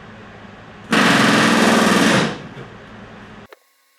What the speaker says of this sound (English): So I did figure I would add in what it actually sounds like to rivet a couple of those rivets